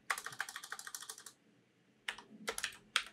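Quick, light clicks of typing on a computer keyboard come in a fast burst, pause, then resume in shorter bursts, close and fairly quiet with no talking.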